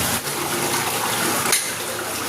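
Water pours and splashes inside a horizontal bore drilled at the bottom of a 370-foot-deep well, a steady loud gushing rush with a brief surge partway through.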